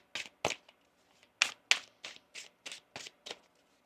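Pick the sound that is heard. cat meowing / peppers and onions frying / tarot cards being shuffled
tarot cards being shuffled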